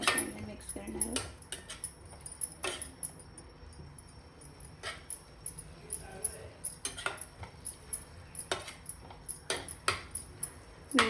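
A spoon stirs onion and cashew paste into cooking methi in a pot, making sporadic metallic clinks and scrapes against the vessel, fairly quiet, with brief gaps between strokes.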